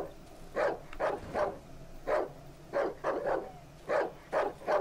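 Dog in the horror game Darkwood barking repeatedly in short, sharp bursts, some doubled, fairly close and loud against a quiet background.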